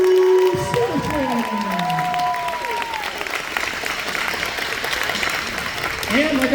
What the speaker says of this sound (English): One more round of applause for Joshua Severson.